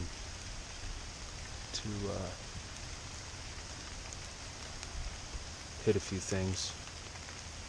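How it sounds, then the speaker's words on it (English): Steady outdoor rain hisses as a constant wash of noise throughout, while someone speaks briefly over it near the middle and end. "I'll take this time while I'm waiting out this rain"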